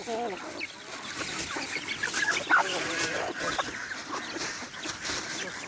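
Chickens, Muscovy ducks and other ducks on a farm clucking and calling continuously, a dense overlapping chorus at moderate distance.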